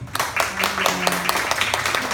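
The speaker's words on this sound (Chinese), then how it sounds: "再次掌声谢谢他们" An audience at a press event applauds an a cappella group, with scattered claps popping around a speaking voice.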